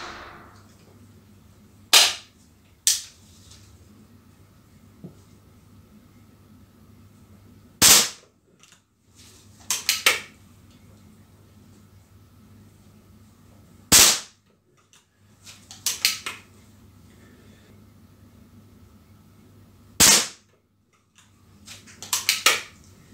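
HW40 and Beeman P17 air pistols fired in target shooting, with sharp, loud single cracks spaced several seconds apart, some followed by quick small clicks, over a quiet hum.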